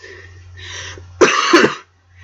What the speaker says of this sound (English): Sorry, like I said, I cough a lot.